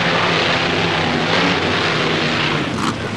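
A drone flying in the BeamNG Drive game gives a steady, continuous propeller-like buzzing drone, moderately loud and unbroken, with no voices over it.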